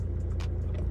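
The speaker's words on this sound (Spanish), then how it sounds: "el coche sigue arrancado" A car engine idles steadily with the handbrake on and the key removed, a continuous low rumble close by with no one speaking.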